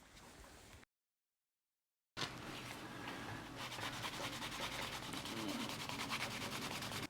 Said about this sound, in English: And then burnishing.